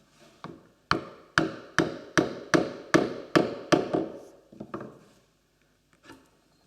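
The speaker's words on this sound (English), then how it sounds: "when I drive this onto the shaft a little bit more, it's tightening along the whole length" A wooden chisel handle is driven down onto its steel tang with about a dozen sharp mallet blows in a steady rhythm, loud and close, easing off into a few softer taps at the end with no talking.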